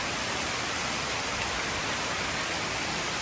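Steady rain falling outdoors in Sri Lanka, a dense, even hiss with no pauses, moderately loud and with no voices over it.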